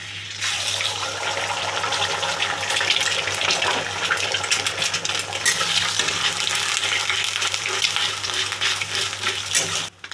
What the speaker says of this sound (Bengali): কড়াইতে তেল দিয়েছি, আগে আমি ডিমের ভুজি করে নেব।